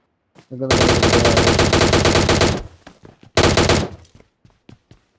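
Automatic gunfire in the PUBG video game: a long rapid burst followed by a shorter second burst, loud and close, then a few scattered clicks and faint voices.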